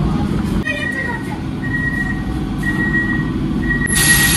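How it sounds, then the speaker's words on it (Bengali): An AC local train rumbles low and steady as it starts moving from a station after the doors close, with faint electrical whines and a brief hiss near the end, voices murmuring nearby. "দরজা বন্ধ, ট্রেন চলছে।"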